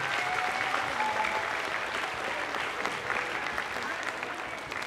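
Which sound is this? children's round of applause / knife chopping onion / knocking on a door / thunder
children's round of applause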